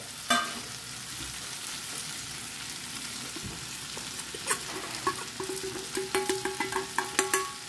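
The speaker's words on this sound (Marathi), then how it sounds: "आतां आमी घालया आमी तेंडली घालता आनी जे मसाला उरला पळय ते बी घालता सगळे." Ivy gourd and leftover masala are tipped into a pan with softened tomatoes, and a constant frying sizzle runs under repeated quick scraping stirs. The stirs grow faster toward the end, close and clear.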